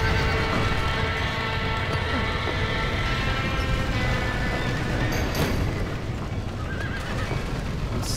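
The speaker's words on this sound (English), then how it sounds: "Somebody get them horses out! They're trapped in there!" Trapped horses in a burning building in Red Dead Redemption whinny and neigh repeatedly over a constant roar of chaotic background noise, with hooves clattering and a brief boom partway through.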